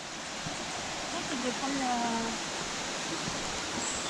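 A waterfall cascades on São Miguel in the Azores, a steady broadband roar of falling water that fills the scene throughout, with faint voices and a brief higher tone drifting over it.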